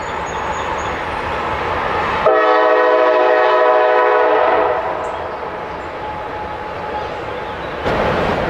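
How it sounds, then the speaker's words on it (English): A train crosses a bridge near the Union Canal, its steady rolling rumble broken by one long horn blast of about two seconds before the noise settles back to a continuous drone. "Catch the train going over the bridge a little bit there."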